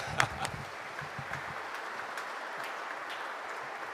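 Congregation clapping at a baptism during Sunday Mass in church, a few sharp claps at first and then a faint, thinning patter of applause that fades away.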